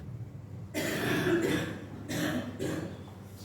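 A woman coughs nearby in a quiet room, a short burst followed by two more distinct coughs with brief pauses between them.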